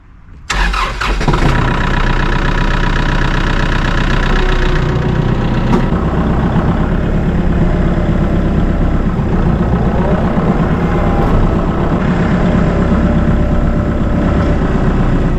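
A farm tractor engine cranks and starts, then settles into a loud, steady idle close by, with a continuous rumble and no voices.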